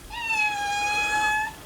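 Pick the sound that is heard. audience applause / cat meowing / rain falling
cat meowing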